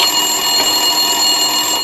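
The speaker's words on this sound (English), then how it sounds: "Winterson's phone was ringing." A desk phone rings continuously and loud in the Max Payne 2 video game, a steady electronic tone with no talk over it.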